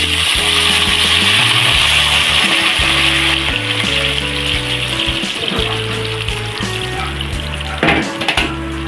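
Aromatics for fish sinigang sauté in a pan, a steady loud sizzle of frying with occasional stirring clinks and scrapes, plus a humming tonal background underneath and a few sharper knocks near the end.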